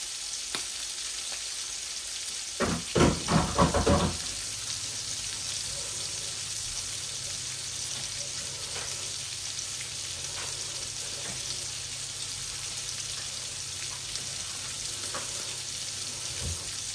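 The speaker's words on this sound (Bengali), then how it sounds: "এখন আমি মাছের বাগারটা বসিয়ে দেই।" Rui fish bagar with turmeric, onion leaves and garlic leaves crackles into a hot pan: a loud sizzling burst early on, then a steady close frying hiss that carries on alone to the end.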